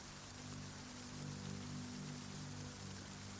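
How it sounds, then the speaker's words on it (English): Rain falling as a soft, steady patter with a low continuous hiss beneath it, faint and even throughout, with no voices. "It's raining!"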